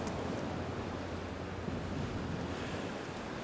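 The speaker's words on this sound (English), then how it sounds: "Too bad it's so windy." Strong wind roars across the microphone in a dense, continuous rush, with surf breaking underneath on the coast at Cupids, loud and unbroken, no voices.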